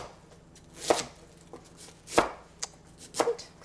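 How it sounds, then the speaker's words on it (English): A knife chops cabbage into flat paysanne pieces, four or five sharp, fairly loud cuts against a board in an uneven rhythm, close and clear with no talk. "anytime you're just using the natural shape of the vegetable and cutting it that way"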